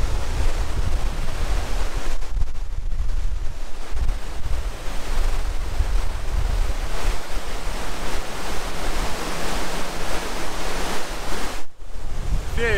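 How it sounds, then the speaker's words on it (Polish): Steady outdoor wind gusts roar across the mountain highlands near the Koruldi Lakes above Mestia, Georgia, a continuous broadband rush buffeting the microphone for the whole stretch, with a brief lull near the end and no voices. "Wieje się, ale tylko trochę."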